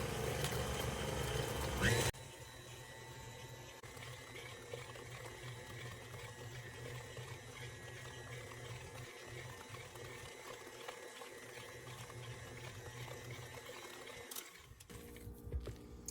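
An electric stand mixer runs at medium speed making fruitcake batter, producing a soft, steady whirring motor hum with faint rhythmic churning, after a brief louder burst at the start.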